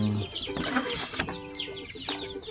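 Chickens in a free range area cluck and squawk in short, uneven bursts, several birds calling close by with sharp rising cries over a quieter background.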